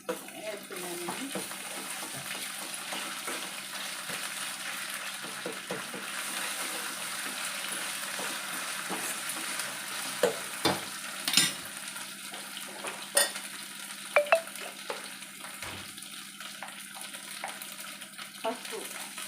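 Ginger and garlic frying in a pan, a steady soft sizzle with scattered spoon scrapes and clinks against the metal, a few sharper knocks toward the end.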